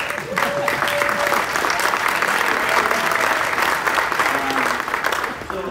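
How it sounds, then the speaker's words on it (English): Sustained audience applause at a Nostr unconference discussion, a dense steady wash of many hands clapping at close range for several seconds, with faint voices mixed underneath. "But claps."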